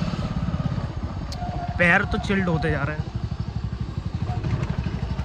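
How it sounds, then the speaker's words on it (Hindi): A motorcycle rumbles steadily while being ridden on a foggy, cold winter morning, its rapid engine pulse continuing close and loud throughout as someone talks over it in Hindi. "तो मैंने अपनी बाइक भी निकाल ली, तो सुबह सुबह देखते हैं कहाँ जाते हैं।"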